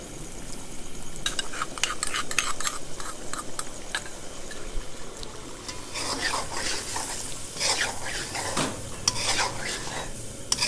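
Spoon stirring chicken karahi with yogurt in a pan, with repeated scraping and clinking strokes over a continuous sizzle, close and fairly loud throughout.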